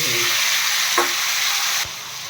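Cumin and ginger paste hits a hot pan for a fish curry and makes a loud, steady sizzle close by. The sizzle drops sharply in volume near the end.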